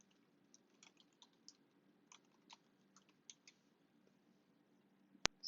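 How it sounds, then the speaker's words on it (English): Soft, faint taps on a device screen keyboard as an address is entered, an irregular run of light clicks spread across several seconds, with one sharp, louder click right at the end. "I'll tap the search bar, type the address"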